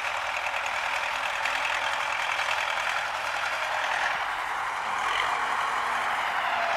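An MTZ-80 tractor pulling a KPS-4 cultivator in a field drones steadily, a continuous mechanical rumble with a faint knocking texture and no voices.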